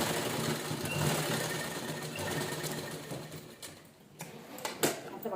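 A sewing machine stitches a cushion cover made from leftover blouse pieces in a fast, steady, close mechanical rattle that runs almost without pause, with a brief slowdown and a few sharp clicks near the end.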